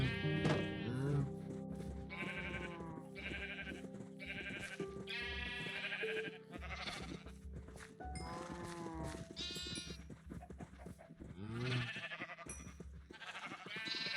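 Sheep in the Minecraft video game bleat repeatedly, a series of distinct wavering calls spread across the stretch, some overlapping, over a faint steady game background.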